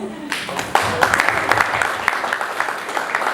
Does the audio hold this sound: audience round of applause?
yes